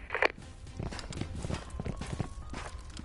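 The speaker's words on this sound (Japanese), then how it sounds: "あ、足音してる。" Footsteps in a PS4 online shooter match, a quick run of close, rhythmic steps following a sharp tap, continuing steadily under faint game ambience with no talk.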